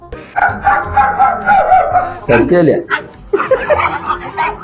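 Dogs behind a gate bark and yip excitedly, several close-up barks overlapping with someone talking over them the whole time.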